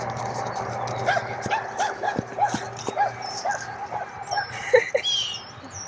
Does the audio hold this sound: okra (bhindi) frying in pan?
no